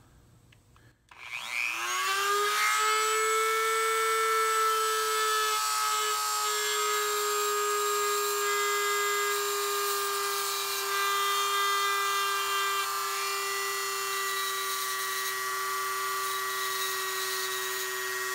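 A spinning grinding wheel shapes unmagnetized Stratocaster pickup pole pieces. The motor spins up quickly into a loud, steady, high whine that holds unbroken for about seventeen seconds, with no talking.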